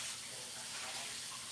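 Kitchen tap water runs in a steady, continuous gush into the sink during washing up, close and alone.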